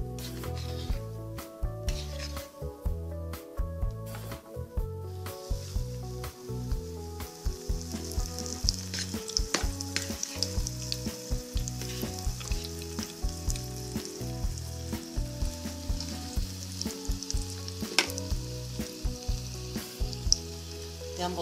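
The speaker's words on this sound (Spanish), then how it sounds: "En suficiente aceite caliente vamos a freír los chiles" Stuffed chipotle chiles, filled with plantain and coated in beaten egg, fry in plenty of hot oil with a steady, close sizzle and crackle that runs the whole time over a bed of tonal background music.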